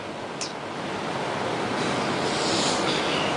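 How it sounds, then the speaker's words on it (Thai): Ocean waves wash in as a continuous, broad roar of surf, close and steady, swelling slightly as a wave breaks, with no talking. "คลื่นพวกนี้"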